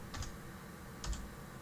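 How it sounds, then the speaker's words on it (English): Computer keyboard typing in two short, quiet bursts of key clicks about a second apart, with a faint hum between them and no talking. "Click on a page and start typing in"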